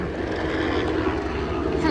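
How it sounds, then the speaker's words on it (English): A helicopter's loud, steady rumbling drone passes nearby, with a person talking over the engine noise. "helicopter going by."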